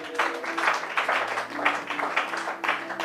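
Congregation applauding during a French-language Bible teaching, a moderate, steady clapping from many hands with some voices and a low tone mixed in.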